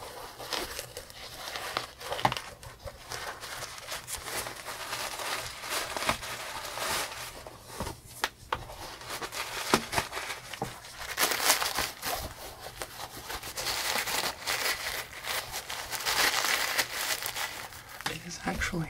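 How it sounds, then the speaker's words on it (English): Crinkle paper crumpled and rustled steadily while a new pair of shoes is unboxed, close and continuous, with soft handling noises throughout. "Let's try crinkle paper number two."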